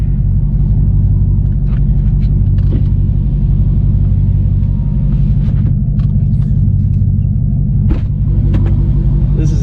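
Deep, steady engine rumble from a 700-horsepower Dodge Challenger Hellcat, heard close and loud as a continuous low idle-like drone with faint intermittent clicks.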